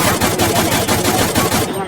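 Rapid automatic gunfire from the Free Fire video game, a continuous loud burst of closely spaced shots that runs almost the whole length before cutting off.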